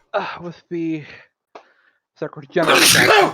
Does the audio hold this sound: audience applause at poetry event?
no